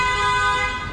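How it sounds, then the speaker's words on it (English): A car horn blares in one sustained, loud, steady honk on a busy traffic street on Rua Central in Macau, holding for the full second. "Now people are going to honk the horns because they're really holding up traffic there."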